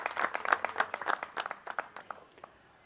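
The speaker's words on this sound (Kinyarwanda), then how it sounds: "Nagira ngo nsabe abari aha ngaha mubaha amashyi, ari abana b'abakobwa ari na staff babo." Scattered applause from a small crowd honouring a girls' team and its staff at a trophy reception, brisk claps that thin out and fade within a few seconds.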